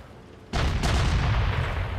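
A tank taking a cannon hit in a video game, a sudden loud boom that cuts in abruptly and holds as a heavy, sustained rumbling roar for about a second and a half, with no voices over it.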